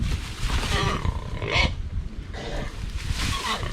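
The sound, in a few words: pig squealing during traditional butchering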